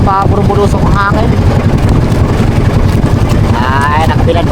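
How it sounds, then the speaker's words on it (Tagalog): Strong gusting wind roars across the microphone outdoors as a loud, steady low rumble that never lets up, with a voice talking intermittently over it. "puro-bulusok ang hangin"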